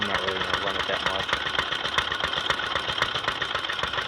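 A 1927 Briggs & Stratton PB engine on a Detroit Moto Mower, running with half a valve guide after carbon was cleaned off the piston, chugs in a fast, even single-cylinder beat, close and steady throughout.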